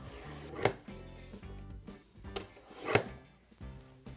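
A paper guillotine trims a printed sublimation design for a tumbler, giving two sharp, close chopping thunks a couple of seconds apart between softer sliding and handling noises.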